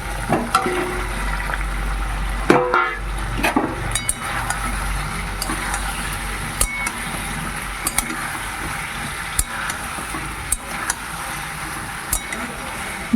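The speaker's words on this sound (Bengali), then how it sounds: "ভালো করে আরেকটু কষে নেব" Fried cauliflower and potato in spices sizzle in a pan while a utensil stirs and scrapes in irregular clinks and knocks, close and moderately loud over a steady frying hiss.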